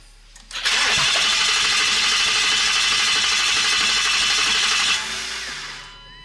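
A truck engine swapped into a Mustang, helped by starting fluid, is cranked and fires up, settling into a loud, steady high roar for about four seconds before dropping to a lower running note, with no talking.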